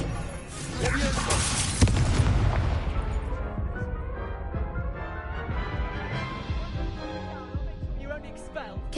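Incendio fire spell blasts in Hogwarts Legacy: a loud thumping burst near the start with booming impacts, then a lingering rumble under swelling game music, with some voice present.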